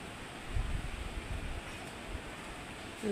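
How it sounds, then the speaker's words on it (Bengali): Wind gusting outdoors after a night of light rain, a steady low rumble buffeting the microphone for the whole stretch, with no voices. "আর এখন দেখেন অবস্থা বাতাস অনেক সুন্দর এত সুন্দর বাতাস"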